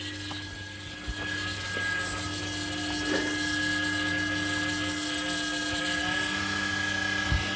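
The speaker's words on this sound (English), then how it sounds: "Yeah, the fuel pump's running." Electric fuel pump on a scrapyard Volvo 740 running with a steady, continuous whine and hum, fairly quiet and unbroken, with a few faint clicks and knocks over it.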